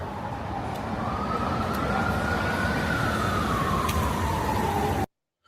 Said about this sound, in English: there's still sound of sirens and stuff